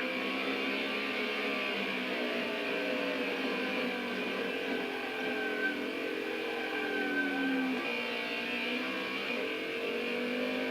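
A race car engine in a racing video game drones at steady high pitch with slight rises and dips, continuous and fairly loud, with no talking over it.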